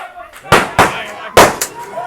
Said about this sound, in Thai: แล้วก็จะยิงปืนไป